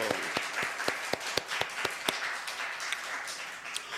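A church congregation claps in thanks, a fairly quiet, steady patter of many hands with a few sharper, louder claps standing out across the span.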